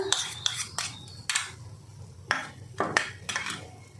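A spoon clinks and scrapes in a bowl while grated potato, carrot, chopped onion and puffed rice are mixed, giving sharp bursts of metallic tapping in an irregular rhythm, close and alone.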